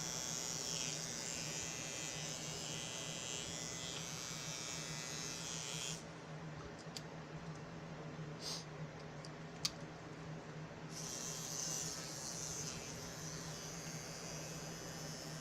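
A small electric tattoo pen machine buzzes steadily with a high whine after repair, briefly cutting to a lower hum with a few clicks before the whine returns.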